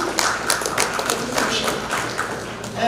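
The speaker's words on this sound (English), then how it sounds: "Applause, please." Audience applause after a business presentation at an industrialisation conference, dense steady clapping filling the room for about three seconds with no pause.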